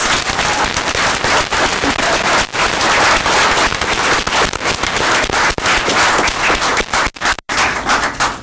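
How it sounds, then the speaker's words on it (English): An audience at a law enforcement awards ceremony claps steadily and loudly for several seconds, a dense close patter that breaks off abruptly near the end. "And a round of applause again for Kim, please."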